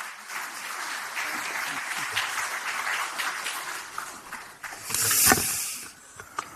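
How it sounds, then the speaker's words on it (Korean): Audience applause at a Democratic Party meeting of regional committee chairs and lawmakers, a moderate continuous clapping that swells briefly near the end, then fades. "조정식 사무총장님께 좀 박수 보내주시기 바라겠습니다"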